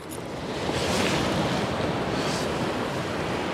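Ocean surf washing against dark rocks on a coastline, a broad continuous roaring wash of waves with gentle swells, heard up close with some wind.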